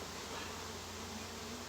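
Dense, steady buzzing of many honeybees in a nuc hive, close and continuous with no pauses or voices.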